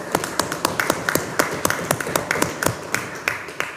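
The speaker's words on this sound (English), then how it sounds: "Let's give them all a round of applause" A round of applause for teachers and principals at a National Youth Parliament session, a small group clapping in brisk, fairly sparse individual claps for a few seconds.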